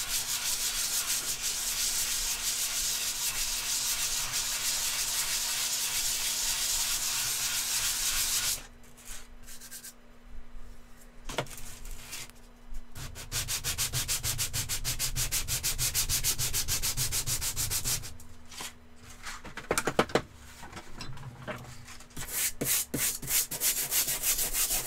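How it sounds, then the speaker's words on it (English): Sandpaper being scrubbed with a wire brush to clear clogs during a woodworking build, a steady loud rasping scrape that pauses briefly and resumes in several long stretches, with no talking. "Cleaning your sandpaper with a wire brush every once in a while to get rid of the clogs helps tremendously."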